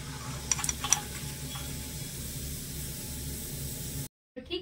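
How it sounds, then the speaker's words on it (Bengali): Semolina zarda pieces deep-frying in oil, a steady hissing sizzle with a few light clinks early, then a sudden cut to silence and a brief return near the end, no speech. "ঠিক একই রকম ভাবে সবগুলো পোলাও আমি এরকম করে ভেজে নেব।"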